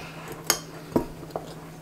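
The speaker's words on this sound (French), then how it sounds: "On ajoute le beurre, une fourchette et on mélange ça à la fourchette." A fork taps and clinks three times against a dish while melted butter is mixed in for a crumble, sharp faint strikes spaced about half a second apart in a quiet kitchen.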